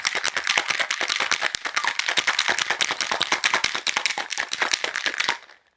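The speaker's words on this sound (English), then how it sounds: "Lid on the shaker. We'll give it a nice shake." A lidded cocktail shaker is shaken hard while a brunch cocktail is mixed, giving a steady, loud, fast rattle of ice for about five seconds that stops abruptly.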